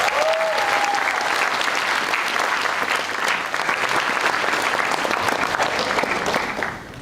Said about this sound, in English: Let's give a round of applause to the graduates.